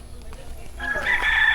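A rooster crows loudly and close by, rising over a steady outdoor hum with faint background noise.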